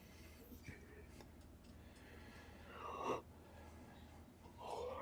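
A person yawns quietly indoors, a drawn-out breathy, voiced exhale with a falling tone, followed by another faint yawn-like breath, over a low background hum.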